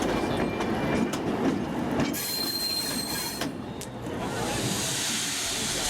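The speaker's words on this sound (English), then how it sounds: "4490, one of the Rail Transport Museum's preserved diesels, is shunting the express carriages" A preserved diesel locomotive shunting express carriages rumbles nearby, with clanking, hiss and a rising high wheel squeal midway as the carriages roll, all fairly steady and unbroken by talk.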